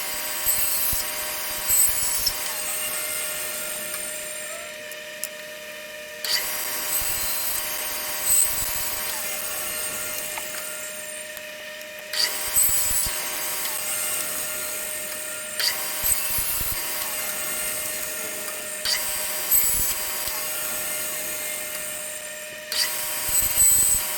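A bandsaw slices wooden pen blank pieces in a workshop, its steady high whine broken into repeated cuts separated by short pauses, with occasional knocks as the wood is handled, close and fairly loud.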